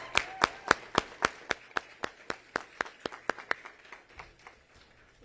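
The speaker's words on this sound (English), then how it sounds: "if you could join me once more in giving them a huge round of applause because they're outstanding." Applause at a bill-signing ceremony for an education law: a steady run of distinct, evenly spaced claps heard close, fading toward the end with no talking.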